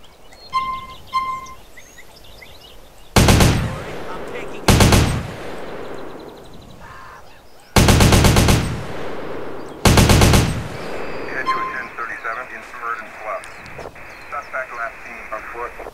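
Bursts of gunfire from a modded weapon in GTA San Andreas, four loud separate volleys of rapid shots with game ambience and faint chirping sounds between them, and no talking.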